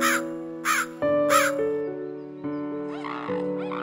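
A crow caws three times in quick, loud bursts in the opening second and a half, over steady background music, in a children's story about a crow in a tree beside a small village pond.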